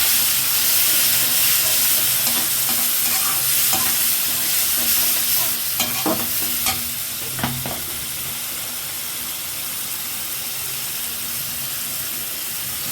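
Potatoes, onions and tomatoes frying for a cauliflower bhaji, a loud steady sizzle with spatula stirring and a few scraping knocks midway, then the hiss settling a little quieter for the remaining seconds.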